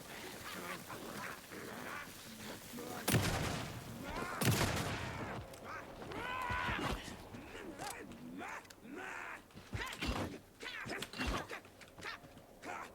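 Shotgun blasts ring out in Alan Wake II, several loud sharp reports spaced irregularly, including strong hits around a few seconds apart, over a busy game backdrop with some talking.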